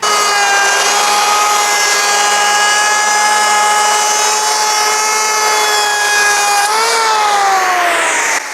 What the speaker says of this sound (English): We'll just plane down to this mark that we've made